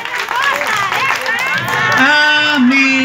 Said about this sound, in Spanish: vamos a un aplauso para el padre